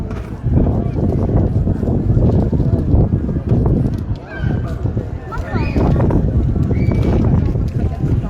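Horses in a historic Sicilian wedding procession, with hoof clip-clops and neighing mixed into loud, continuous outdoor crowd noise and chatter.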